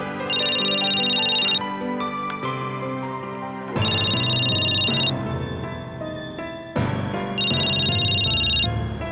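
A phone ringtone plays loud and close, a bright repeating melody in three ringing bursts with short pauses between them.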